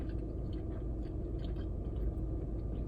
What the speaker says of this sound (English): chew my food